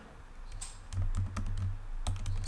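Quick, steady clatter of keys on a computer keyboard while renaming files, close and fairly loud, with no voices over it.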